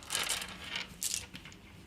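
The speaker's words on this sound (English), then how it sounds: "And then they were going to roll 14 dice, I think it was." Several dice rattle and clatter onto a table during a roll in a board wargame of the 1777 campaigns, a run of bright, crisp clicks in two or three bursts, close and fairly quiet, with no talking.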